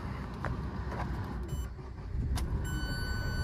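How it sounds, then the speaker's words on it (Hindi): A 2023 Citroen C3 base model idles with a low, steady engine rumble, close by, and a few small clicks and taps from inside the cabin. "ये आपका गाड़ी का साउंड रहने वाला"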